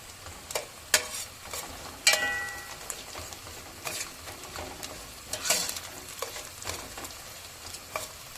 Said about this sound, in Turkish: Salçamızı katıyoruz.